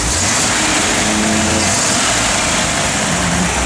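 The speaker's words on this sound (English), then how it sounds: "Give a little rev." A 1958 Chevrolet Apache truck engine runs loud and close, holding a steady, rough idle with a slight rise in revs, and no talk over it.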